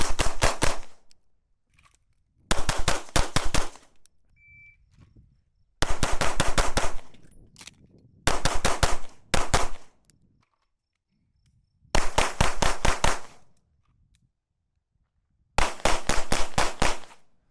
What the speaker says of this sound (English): try to shoot 6 rounds in the center of that target as quickly as we can